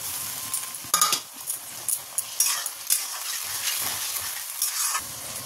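Tomato with spices sizzles and fries in a pan for a dhaba-style tarka while a utensil stirs it, with scraping strokes and light clinks over a steady hiss.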